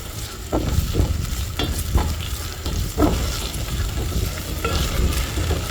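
Onion hissing and sizzling in a little cooking oil in a pan, with stirring scrapes, a steady close frying sound with no talk.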